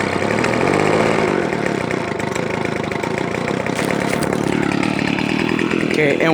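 A Hyper Tough gas leaf blower engine idles close by on a very low idle, with a loud, steady sputtering rumble that shifts slightly in pitch toward the end.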